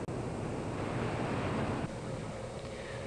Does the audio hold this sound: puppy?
no